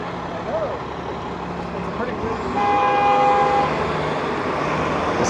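A car horn sounds in a Toronto street at evening toward a Canada Post truck waiting to turn left, one sustained honk midway through over traffic rumble, moderately loud.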